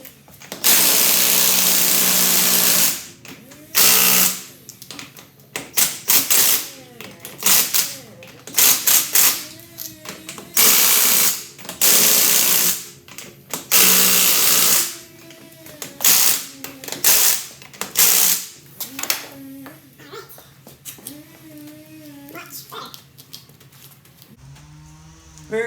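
Power tool tightening bolts on a Mack R model truck: loud bursts of whirring and ratcheting run in short repeated pulses with brief pauses between them, close up and with no talking.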